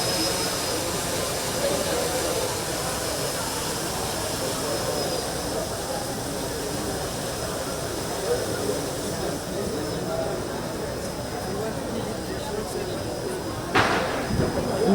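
A drone at a National Science Week innovation showcase flies with a continuous loud whirring rush that holds steady for the whole stretch, with faint talk underneath and a brief sharp burst near the end.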